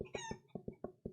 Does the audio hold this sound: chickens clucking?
yes